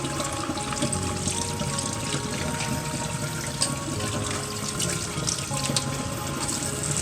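Running tap water splashes steadily over a gutted mackerel being rinsed out in a kitchen sink, a continuous close hiss and patter with no talking.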